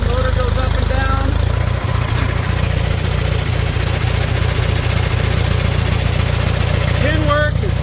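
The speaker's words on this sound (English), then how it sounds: "Shows you that the PTO pump is working." A 1962 John Deere 3010 tractor engine runs steadily nearby, driving its PTO pump with a constant low rumble that shifts slightly in pitch, with faint clanks and squeaks over it.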